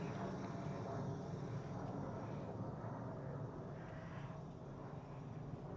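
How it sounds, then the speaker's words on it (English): A faint, distant airplane drones steadily overhead, a low continuous rumble without any talking. "Another plane."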